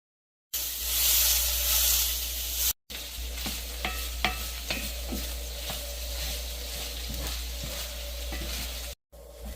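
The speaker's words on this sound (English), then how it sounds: "the mister is stirring the ground beef. He's browned it." Browned ground beef with onions sizzles in a pan while a spoon stirs it, giving a steady hiss broken by short scraping clicks, close and fairly loud, with brief dropouts.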